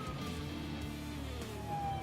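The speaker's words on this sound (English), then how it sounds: "Is that a siren?" A faint siren wails in the distance, its thin rising and falling tone drifting beneath a steady low background hum and sweeping upward near the end.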